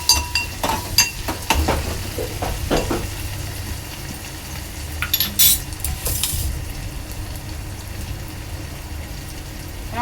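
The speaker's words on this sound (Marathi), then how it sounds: "तेल चांगलं गरम झालं तर यामध्ये आलं लसणाची पेस्ट टाकणार आहे" Crushed ginger, garlic and chili paste sizzles in hot oil, with a spoon clattering and scraping in the pan early on before the frying settles into a steady hiss.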